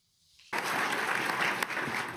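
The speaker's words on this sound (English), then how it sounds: "I think you could hear the applause all the way from Davos to the White House" A large audience at the World Economic Forum in Davos applauds after a speech by President Trump, the clapping surging in suddenly and holding as a dense, loud wash of hands.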